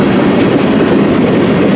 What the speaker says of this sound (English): The CN M384 northbound train.